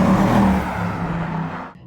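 Mercedes C63 AMG Black Series replica with a loud V8 revving, a deep sustained engine roar that holds and then cuts off sharply, close to the car with no talk.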